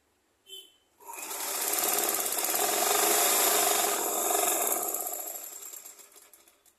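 A sewing machine stitches umbrella fabric in one continuous run of about four seconds, close and fairly loud, starting after a brief short burst and slowing to a stop.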